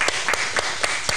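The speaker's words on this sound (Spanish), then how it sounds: "fuerte las palmas para Ariana" Steady, rhythmic clapping from a studio audience for gymnast Ariana Orrego during a sports interview show, with evenly spaced claps standing out over a continuous wash of applause, no talking.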